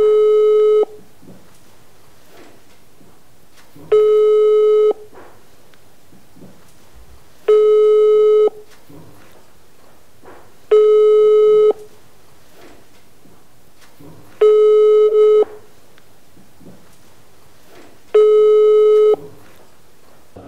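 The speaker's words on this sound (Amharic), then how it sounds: "የደወሉላቸው ደንበኛ ስልክ አይመልስም" A telephone busy signal repeats on an unanswered call, six evenly spaced one-second tones separated by pauses, clear and loud with no talk.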